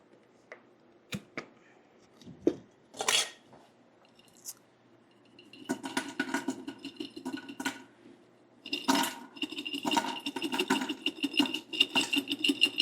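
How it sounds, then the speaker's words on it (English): Hot and spicy Korean barbecue marinade glugging from a jar into an Instant Pot, a few faint knocks and clicks first, then several seconds of close, wet, bubbly pouring. "So I'm going to put some straight into the Instant Pot, just as is."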